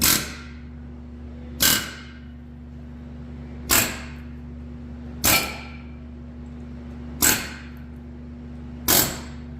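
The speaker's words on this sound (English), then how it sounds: "go around and rattle the bolts with an air hammer just to break stuff loose" An air hammer fires short, sharp rattling bursts against rusty bolts on an abandoned Chevy 350 engine, six evenly spaced blasts over a constant low machine hum.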